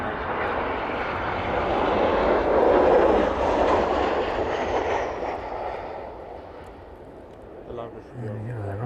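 A Ryanair airliner landing at East Midlands Airport, its broad jet engine roar swelling to a peak midway, then fading as it rolls out, with people talking faintly near the end.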